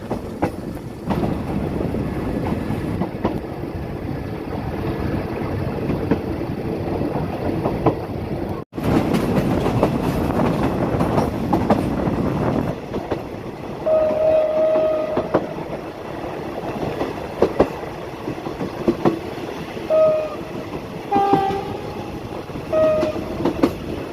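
Trains idling and moving at a busy Bangkok railway station during a locomotive change, a loud continuous rumble with clanks, brief wheel squeals and distant horn-like tones, no talking.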